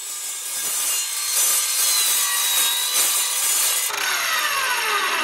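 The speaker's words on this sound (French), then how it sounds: "C'est vraiment une scie polyvalente, d'où mon intérêt pour celle-ci et de vous faire partager sa capacité." A multi-material saw cuts close up, making steady back-and-forth rasping strokes that rise and fall in rhythm. The tone turns sharper and shifts near the end.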